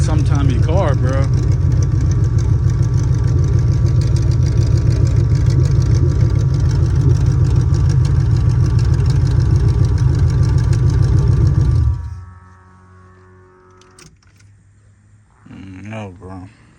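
A Chevrolet Monte Carlo G-body engine runs loud and steady at close range, then abruptly dies with no sputter, leaving near quiet with a few faint knocks and a brief voice near the end.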